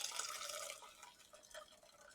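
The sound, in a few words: coconut milk being poured into a pot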